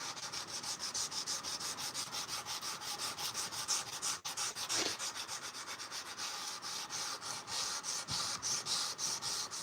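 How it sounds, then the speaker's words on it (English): Hand sanding a forged knife blade with sandpaper, a steady rhythmic scratchy rubbing in quick even back-and-forth strokes, close and continuous with no talking. "make sure you get all the last grit's lines out before you switch to the next higher grit"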